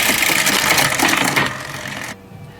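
Campagnolo Super Record 11 EPS electronic bicycle derailleur shifting while the button is held: a rapid whirring motor buzz with chain clicks, stepping through gears, then stopping abruptly into near silence.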